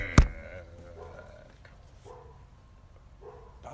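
A single dog bark rings out sharply near the start, followed by quieter yips and whimper-like sounds over a low background.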